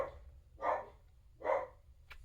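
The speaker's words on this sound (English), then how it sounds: "Sorry about the dogs barking there." Two loud dog barks spaced about a second apart, then a faint yip, with a low steady hum underneath in an indoor room.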